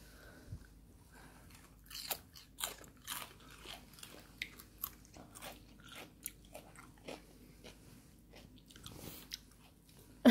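A dachshund crunching and chewing cucumber up close, with a series of sharp, irregular bites and wet chewing sounds over quiet background, no talking.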